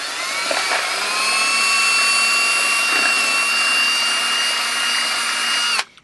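Continuous high-pitched whir of a power drill boring through the plastic of a Sega Genesis case, steady and loud for several seconds before stopping suddenly.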